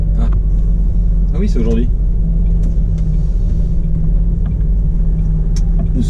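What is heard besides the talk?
truck engine rumbling while driving on the road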